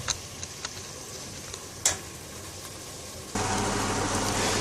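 Prawns, vegetables and chili cook in a pan, giving a soft steady sizzle with a few sharp clicks of stirring, and the frying grows louder and fuller near the end.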